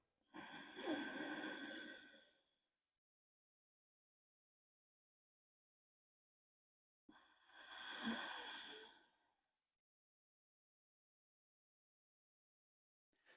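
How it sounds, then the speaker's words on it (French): Two long, slow stretched breaths with a throat lock during a Sekhem breathing exercise, each a drawn-out airy exhale lasting about two seconds, separated by a long silent pause, close and soft. "Une respiration avec le verrou et une respiration bien étirée."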